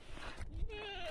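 A goat bleats once near the end with a rising, wavering cry, heard over outdoor noise and low background murmur at a farm in Lagindingan.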